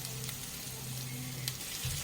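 Jackfruit and shrimp curry with ground spices is being stir-fried in a pan, giving a soft, steady sizzle over a low hum, with no one talking.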